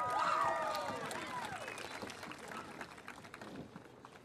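Scattered applause rises from a graduation ceremony crowd during the reading of graduates' names, starting fairly full and then thinning into lighter, sparse clapping with faint voices underneath.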